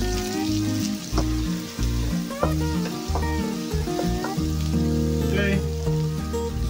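Chopped onion sizzles loudly in hot oil in a pan while cooking chicken menudo, a dense continuous crackle with stirring clatter throughout, and a voice speaks briefly over it.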